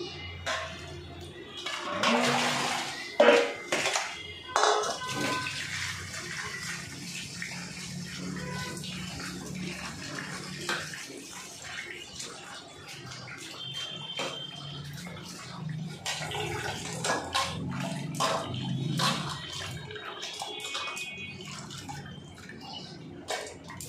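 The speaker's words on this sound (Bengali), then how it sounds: "মাছগুলো ধুয়ে নিচ্ছি" Scaled fish are washed under a running tap, with water splashing and trickling over the pieces and occasional clunks, moderately close and uneven in loudness.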